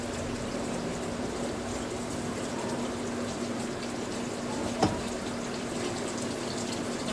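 Tap water runs in a steady, even rush while the last few dishes are scrubbed in a home kitchen after cooking mutton and bajra bhakri, with one brief clink of a utensil near the end and no talking.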